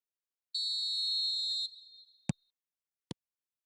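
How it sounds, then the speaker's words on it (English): A referee's whistle signals the start of the second half of a football match: one sustained high blast of about a second, then two sharp short blips, alone with no talk over them. "Whistle goes, and we start the second half."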